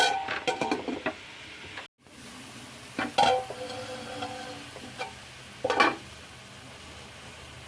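Spinach being stirred in a pan while cooking cheera mutta thoran, with a few soft scraping and clinking strokes over a low sizzle, close and fairly quiet with a brief silent gap.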